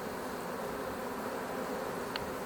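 Honeybees swarm and fly around the entrance of a hive while two colonies are being united, a steady dense buzz of many wings filling the scene with no voices.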